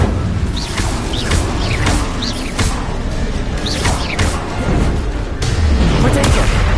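Hogwarts Legacy magic combat with the Incendio fire spell: repeated loud whooshing bursts and crackling impacts that stay dense and close throughout, with short chirpy effects between them.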